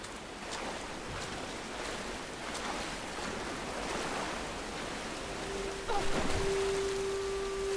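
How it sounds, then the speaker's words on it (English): Waterfall in Tomb Raider (2013), a broad, steady rushing wash of water at moderate level, with a few faint knocks and a brief tonal hum joining near the end. "Can I just ride the waterfall down?"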